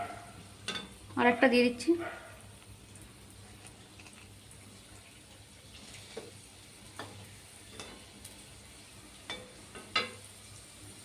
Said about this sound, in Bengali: আমি এটা হালকা গরম তেলেই ছাড়লাম।